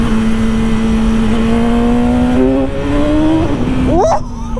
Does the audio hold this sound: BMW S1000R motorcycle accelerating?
yes